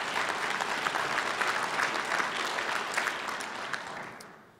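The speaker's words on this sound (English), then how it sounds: "That's an applause." An audience at a 2012 State of the City address in Duluth, Minnesota, claps with dense, even applause that gradually fades out at the end.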